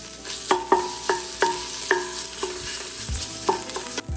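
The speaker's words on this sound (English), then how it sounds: "I'm gonna add my tomato paste to the pot. Now I'm gonna cook this up." Tomato paste cooking in a soup pot while a spoon stirs it, ringing metal taps and scrapes repeating about every half second over a low sizzle, close with no talk.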